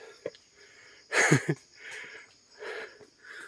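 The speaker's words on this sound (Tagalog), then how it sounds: "naririnig ko na rin yung hingal niya" Heavy breathing from a person climbing the 930 steps of Tayak Hill, with several rasping, wheezy breaths and a loud huffing gasp, close and alone with faint outdoor background.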